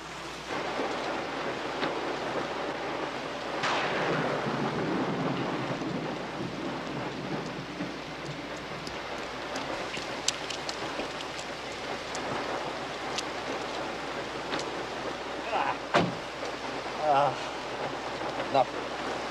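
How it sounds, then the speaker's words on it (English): Heavy rain pours steadily outdoors under a dark sky, with thunder rumbling and cracking through the downpour at several points, fairly loud and continuous throughout. "Sky's dark. It's gonna rain."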